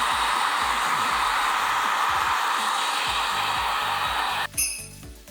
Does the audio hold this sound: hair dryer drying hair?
yes